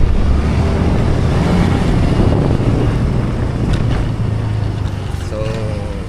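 Strong wind rumbles across the microphone outdoors, a loud, steady low roar with constant buffeting and no break, while a faint voice barely surfaces near the end.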